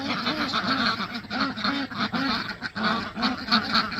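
A group of agitated farm turkeys gobble and squawk close by in quick, repeated bursts, overlapping calls rising and falling in a rough rhythm.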